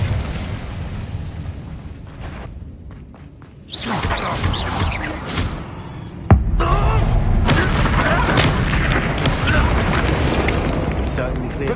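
The Incendio fire spell in Hogwarts Legacy bursts out with a loud whooshing blast and a sharp boom-like onset, followed by a sustained roaring rumble, with a voice speaking nearby.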